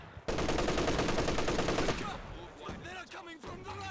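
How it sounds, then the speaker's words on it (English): An MG34 machine gun in Company of Heroes 2 rattles out one loud, fast continuous burst that stops abruptly, followed by someone talking over quieter battlefield sounds. "MG34."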